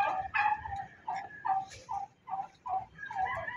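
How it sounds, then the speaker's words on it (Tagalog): A turkey gives a series of short, repeated gobbling calls, about eight evenly spaced bursts, close and clear over a quiet background. "Yan uli yung pabo."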